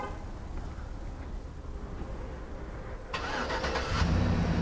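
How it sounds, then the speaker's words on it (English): A 2011 Chevrolet Silverado LT truck starts by remote start: a low rumbling idle-like background, then the engine cranks and catches about three seconds in and settles into a steady, louder mid-pitched idle, with no talking. "It's got remote start."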